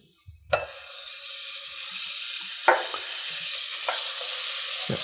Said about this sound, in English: to the same skillet, we're going to add the rest of that butter